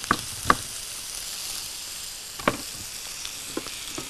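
Onion fries in hot oil with a close, steady sizzle, broken by a few sharp pops and spatula scrapes.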